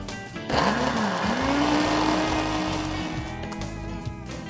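Kitchen blender blending grape juice: the motor spins up with a rising whine, then runs loud and steady with a churning roar before easing slightly toward the end.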